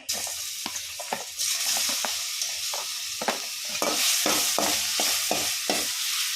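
Dal frying in heated oil while being stirred, a steady sizzle with repeated scraping strokes of the spoon throughout, close and clear with no talking.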